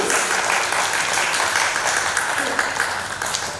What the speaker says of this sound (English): Can I have another round of applause for her